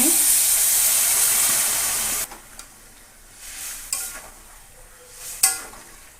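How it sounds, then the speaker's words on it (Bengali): Hot water poured into sizzling braised chicken, a loud hissing rush that cuts off abruptly after about two seconds, followed by quieter bubbling and a few faint clatters of the pan. "এখন জল দিয়ে দেবো গরম জল দিয়ে দিচ্ছি"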